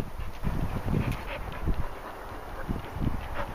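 Dogs on a walk in Newport pant and shuffle nearby in soft, irregular bursts, faint and close with light movement noise throughout.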